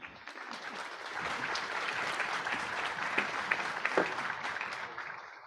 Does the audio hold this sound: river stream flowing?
no